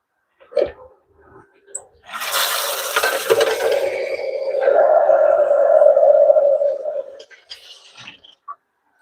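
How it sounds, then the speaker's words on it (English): Water poured into a pot of cooking mukimo of maize, beans, potatoes and green peas, a sizzling hiss that rises and settles, with a few utensil clinks before and after and no talk. "we have to add some little water so that it can continue cooking"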